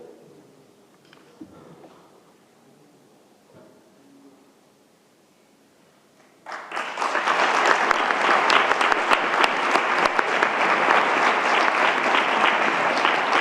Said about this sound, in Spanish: Despedimos ya con un fuerte aplauso